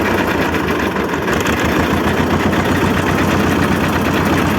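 A T25 tractor engine runs loud and steady throughout with a low rumbling, slightly knocking tone, its pitch rising and falling a little as the throttle is adjusted by cable.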